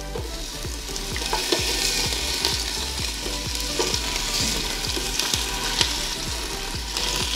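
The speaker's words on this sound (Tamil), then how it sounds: "இந்த 1 நிமிஷம் இது பொரிஞ்ச பிறகு வெங்காயம் போட போடுறேன்." Onion being fried in hot oil for chicken biryani, a steady close sizzle with regular stirring scrapes ticking through it, no voices.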